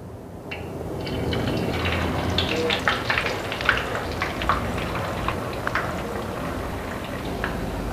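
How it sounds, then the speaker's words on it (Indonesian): Tofu-skin spring rolls fry in hot oil in a wok over medium heat, a steady close sizzle with crackling pops and bursts of spattering throughout. "Jadi kalau minyak sudah panas, langsung aja dengan kita goreng dan volume api sedang."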